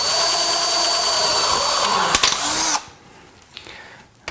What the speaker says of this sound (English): I'm going to drill some more because now it's stuck in there.